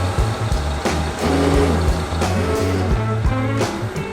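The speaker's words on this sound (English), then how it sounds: "You can hear the little pump try though" The small headlight washer pump on a Daihatsu Rocky 4x4 SUV strains and fails to spray, giving a steady low electric hum broken by rhythmic pulsing, close up and continuous.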